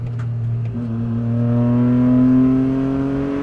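A 2025 Toyota GR Corolla's turbocharged engine revs up with a rising, steady drone as it accelerates, loud and close, without any speech over it.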